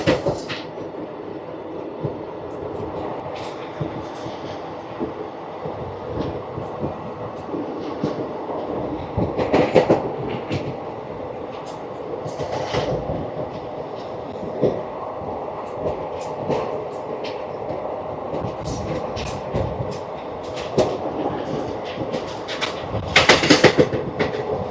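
The Ratnachal Express (train 12718) runs along railway tracks past Pitapuram station, making a continuous close rumble with rhythmic clickety-clack wheel beats and occasional sharper rattles throughout.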